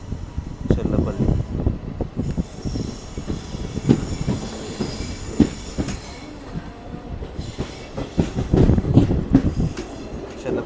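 The Padmavathi Express passenger train rolls slowly past Cherlapalli, its wheels clacking irregularly over rail joints with occasional metallic squeals, while people talk nearby.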